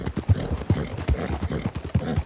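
Horse hooves clip-clop in a quick, steady rhythm in the Red Dead Online video game, close and distinct, with the regular beats of a Norfolk Roadster horse moving at pace.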